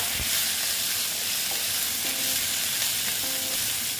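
Tomatoes cut into long strips sizzle steadily in hot oil with a mourola fish curry base, a dense, continuous frying hiss with faint stirring clinks, close and even throughout.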